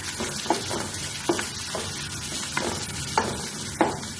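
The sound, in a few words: onions frying in a pan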